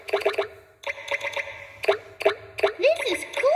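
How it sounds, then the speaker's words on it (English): Water drips plopping inside a cave, a series of distinct close, resonant drops falling in irregular clusters, some with a rising gurgly ring, with a faint low hum beneath. "listen to those water drips"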